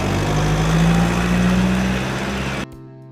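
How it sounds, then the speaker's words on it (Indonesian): A concrete mixer truck's heavy diesel engine runs steadily close by with a deep low rumble and a droning hum, cutting off abruptly near the end. "Truck mixer."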